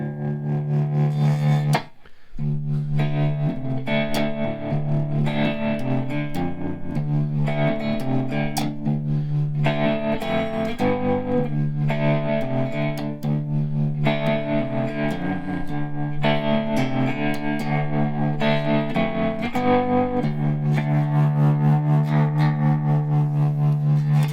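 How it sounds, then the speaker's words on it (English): An Enya Sonic guitar plays a slow, loose swamp blues phrase through effects, with a steady low note ringing under sustained, slightly driven chords and melodic fills, loud and continuous with no talking. "A little bit of a blues kind of thing, swamp blues."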